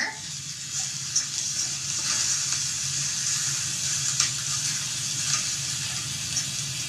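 Rice frying in a pan with tomato liquid nearby gives a steady, close sizzle, broken by occasional scrapes and clicks as it is stirred, with no talking.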